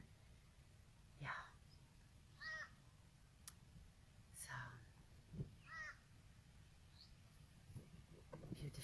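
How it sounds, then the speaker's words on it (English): Crows caw several times beside a tree outdoors during soft rain, loud, clear calls spread across the clip with light talk and a low background rumble between them. "there's all these beautiful birds"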